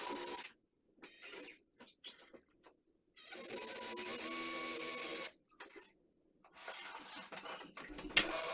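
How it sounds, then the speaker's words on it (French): A 5 mm bit drilling into a furniture panel only as deep as a fitting's thread, heard as several short bursts of a whirring electric drill starting and stopping at close range, with quiet gaps between. "c'est une mèche de 5 mm et je vais percer uniquement la longueur du"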